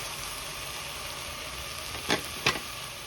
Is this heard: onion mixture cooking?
yes